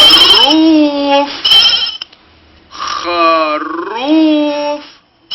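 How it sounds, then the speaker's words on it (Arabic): Farm sheep bleating in two drawn-out, wavering calls separated by a short pause, loud and close, with no other sound around them. "خروف."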